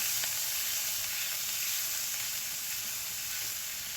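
Onion and garlic paste frying in oil with nigella seeds and green chillies for a pabda fish curry, a dense, even, continuous sizzle heard close up with no pauses.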